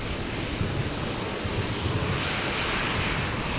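A Qantas Boeing 737-800 jet arriving at Brisbane Airport from Melbourne, a steady broadband engine roar holding constant and fairly loud, with no voices.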